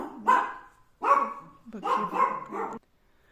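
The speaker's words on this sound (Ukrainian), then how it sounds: "я вибачаюсь, песик мені трошки заважає" A dog barks indoors near someone knitting and seaming a sweater sleeve, giving a few close, loud woofs in a short burst followed by quick overlapping yips.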